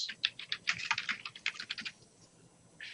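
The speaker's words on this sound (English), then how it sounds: "And as I'm typing, you see on the right-hand side here, it's creating some text for me." Typing on a computer keyboard, a quick run of close, crisp key clicks in an irregular rhythm, then a short pause and a few more taps, with no voices.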